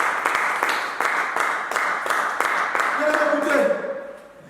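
Church congregation clapping in a steady rhythmic beat while acclaiming the Lord, roughly two claps per second, with voices mixed in and a short sung or called tone near the end as the clapping fades.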